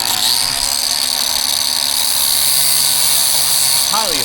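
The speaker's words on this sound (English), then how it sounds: "as the blade rotates, it's gonna run that sandpaper over the surface" A rotating sandpaper disc grinds rust off metal with a loud, continuous high-pitched whine and rasp. A brief pitch sweep comes as the disc slows near the end.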